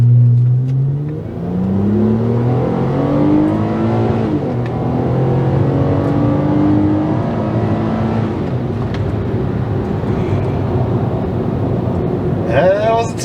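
A Honda Accord with a VTEC 3.0L V6 makes a 0 to 100 acceleration run, the engine note climbing through several rising gear sweeps, loud and close, then easing off near the end.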